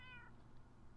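A cat in a Minecraft-style video game gives one short, faint meow at the start, then fades into low background noise.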